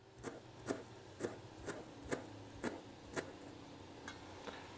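Fresh chives being finely chopped with a knife on a board, about ten soft, evenly spaced cuts, faint and close.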